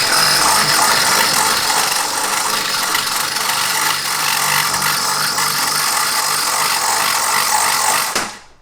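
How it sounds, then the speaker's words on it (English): A power drill grinds continuously and loudly through a car's metal firewall for several seconds, with a harsh rattling texture, then stops abruptly. "now I'm drilling a hole through the firewall"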